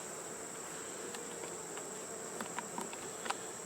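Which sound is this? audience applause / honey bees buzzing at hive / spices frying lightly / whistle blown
honey bees buzzing at hive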